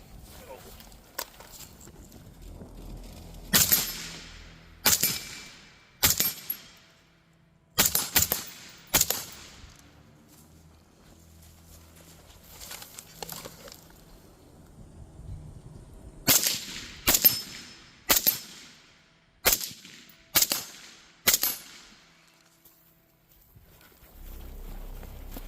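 An 11.5-inch AR-15 fighting rifle fires sharp, loud shots outdoors in two clusters, about five cracks and then six or seven more, with quiet stretches and faint background voices between.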